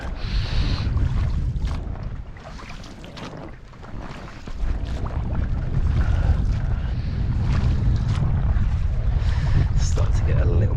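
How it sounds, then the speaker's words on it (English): Wind blows over an open dinghy on the Kingsbridge Estuary, giving a loud, continuous, buffeting roar that swells stronger partway through. Water noise runs underneath the wind. "It's gone back to breezy again here."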